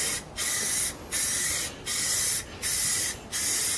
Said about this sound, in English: we're gonna hit it with a coat of gloss black